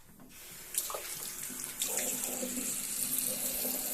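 Tap water runs into a sink while a face is rinsed after shaving, a close, steady hiss of flowing water broken by splashes as hands scoop and splash.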